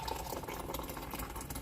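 Hot water pours steadily into a cup holding a tea bag, a continuous close bubbling, trickling pour with no talking over it.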